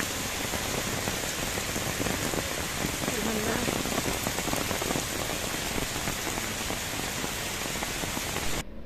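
Heavy rain pours down in a dense, even roar of drops striking surfaces close by, steady and loud for the whole stretch before cutting off abruptly at the end, with no voices.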